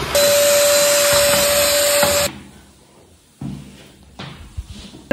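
A vacuum cleaner runs across a home floor with a loud, steady drone and a thin whine for about two seconds, then cuts off, leaving quieter knocks and handling noises.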